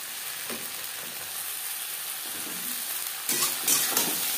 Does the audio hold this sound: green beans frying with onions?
yes